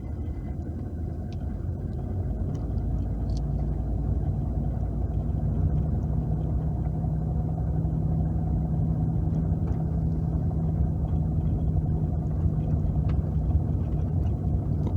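A car pulling along in second gear on an exam driving route, a steady low engine rumble with constant road noise from inside the cabin, unbroken and even throughout with no speech.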